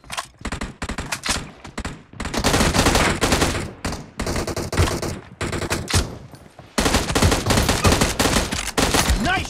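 PUBG Mobile gunfire: dense, loud bursts of automatic weapon fire in rapid fusillades with short gaps, close and continuous across the clip.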